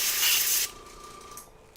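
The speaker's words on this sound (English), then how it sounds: "make sure that I could see a spray pattern that's coming out clean." An airbrush sprays acetone onto a paper towel to check the spray pattern: a steady close hiss of fine spray that cuts off abruptly, followed by a fainter hiss and a brief burst near the end.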